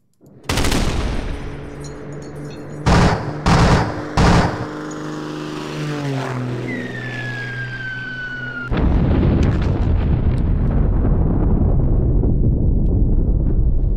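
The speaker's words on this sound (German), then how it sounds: "Wir machen hier mal noch einen Luftschlag, wenn es geht" An air strike in the war strategy game John Tiller Japan 46: a loud initial blast followed by several heavy thuds, a descending whistle, then a sustained roaring rumble that fills the rest.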